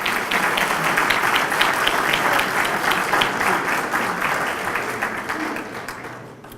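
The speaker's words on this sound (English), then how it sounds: "So please give yourself a nice round of applause." A crowd at a firefighters' appreciation awards dinner gives sustained applause, a dense wash of clapping that holds steady and then fades slightly toward the end.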